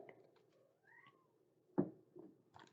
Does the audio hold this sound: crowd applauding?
no